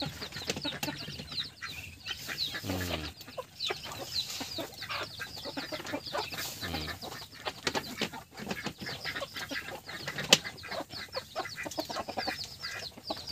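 Chickens clucking near a hut, busy continuous clucking and chatter from several birds, with occasional wing flaps.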